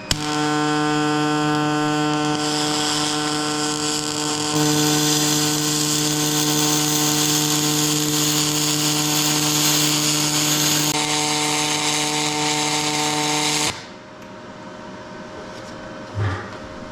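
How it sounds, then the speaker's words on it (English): Dual pulse MIG welding of aluminum with a Firstess DP200 welder gives a loud, steady buzzing hum with a bright crackling hiss, running continuously for about fourteen seconds before cutting off into quieter room noise with a brief clunk. "Let's go ahead and get some welding done with aluminum."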